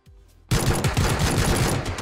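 Rapid automatic gunfire in the battle-royale game PUBG, a loud continuous burst of shots and impacts that kicks in abruptly after a quieter lead-in and keeps rattling to the end.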